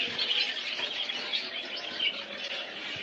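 A flock of budgerigars at a bird farm keeps up a dense, continuous chatter of high chirps and twitters, fairly close and steady, with no talking.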